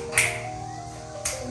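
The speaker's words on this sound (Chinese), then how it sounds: "燕子还能听到你打响指" Two crisp finger snaps about a second apart in a courtyard house, sharp and close, with a quiet, steady background between them.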